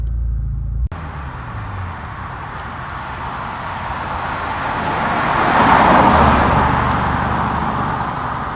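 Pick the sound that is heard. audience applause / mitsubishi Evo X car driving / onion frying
mitsubishi Evo X car driving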